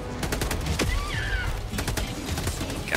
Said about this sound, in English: Come on, machine gun.